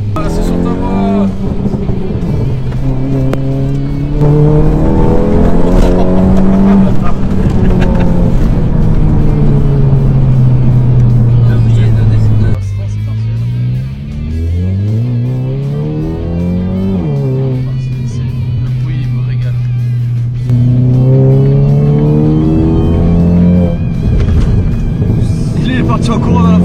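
A stage 2+ tuned Volkswagen Golf 7 GTI Performance engine revs loudly and repeatedly, its pitch rising and falling through several sweeps, with people talking over it throughout.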